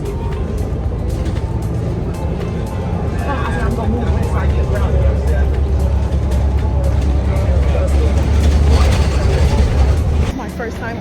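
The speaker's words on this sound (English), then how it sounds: "We on the bus." Inside a moving city bus, a steady low engine rumble and road roar with rattles persisting throughout, while a person talks over it.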